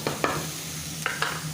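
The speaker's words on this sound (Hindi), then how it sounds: "पहले मैं इसको सोते करूँगी मक्खन में जौ के दलिए को" Barley porridge sautéing in melted butter in a pan, a soft sizzle punctuated by a few brief scraping stir strokes, quiet and close.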